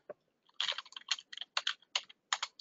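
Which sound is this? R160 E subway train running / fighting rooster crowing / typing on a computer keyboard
typing on a computer keyboard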